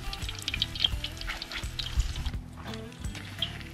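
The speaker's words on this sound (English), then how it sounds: "you're just gonna toss her in the oil. Got one going here already." Beer battered onion rings bubble and sizzle in hot oil in an outdoor shore lunch setting, a steady close frying hiss with faint splashes and low background rumble.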